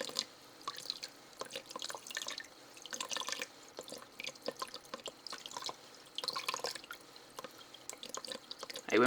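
Water pulses from a pump under PID flow control, making irregular splashing and dripping bursts that come and go in quick clusters at a moderate level.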